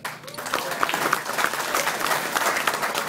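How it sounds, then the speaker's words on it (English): Audience applause at a live comedy show, dense steady clapping from a crowd that holds at a constant level for about three seconds, with faint voices mixed in. "Let's have a round of applause for Mr. Cockerham."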